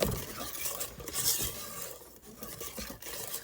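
Cake batter stirred by hand in a bowl with a utensil, giving a steady scraping, swishing rhythm at close range, moderately quiet and alone without talk.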